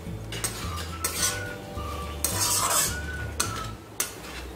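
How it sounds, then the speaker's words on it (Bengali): Egg bhujia with chopped coriander leaves stirred in a pan, a metal utensil scraping and clinking in irregular strokes against the pan over a low, steady background hum. "ভালো করে মিশিয়ে নিচ্ছি।"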